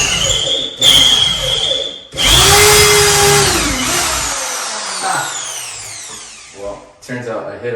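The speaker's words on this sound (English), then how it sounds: "I'm going to pre-drill and then use a hand screwdriver to drive them in" A power drill pre-drills a wall for shelf screws, whining at high pitch in short bursts, then running steadily with a rising and falling motor tone, loud and close.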